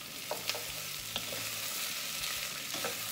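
Onions sizzle steadily in a pan, a constant close frying hiss with a few light clinks of stirring.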